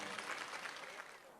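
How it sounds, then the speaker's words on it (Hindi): An audience at a religious discourse gathering in Karera, Shivpuri claps in a brief, fairly faint burst of applause that fades toward the end. "एक बार जोरदार ताली बजा करके आप स्वागत करो सब लोग।"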